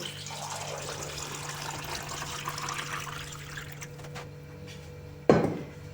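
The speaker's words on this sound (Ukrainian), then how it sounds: "наливаємо холодну воду." Cold water poured into a pot for sterilizing jars of cucumber salad, a steady trickling pour that runs for several seconds and ends in a brief louder splash near the close.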